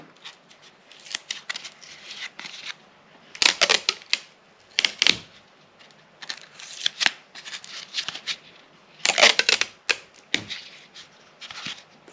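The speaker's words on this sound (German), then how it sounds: "ich nehme hier einfach Tesa. Ist ja transparent, man sieht es nicht. Das kleben wir jetzt hier einfach auf das Stück Pappe rauf." Clear Tesa adhesive tape pulled off the roll and pressed onto a piece of cardboard, close, with bursts of ripping and crackling separated by short pauses and small handling clicks.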